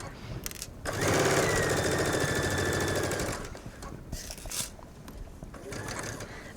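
A sewing machine stitches up the second side of a V-neck facing: a steady, fast mechanical whirring run of about two seconds, close and fairly loud, between quieter handling sounds.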